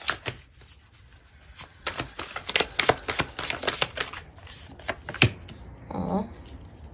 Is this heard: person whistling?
no